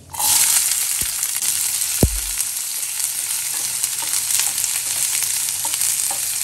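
Finely chopped small onions (shallots) dropped into hot oil with whole spices for a mushroom gravy, a sudden loud sizzle that settles into a steady, close frying hiss with a brief stir clatter.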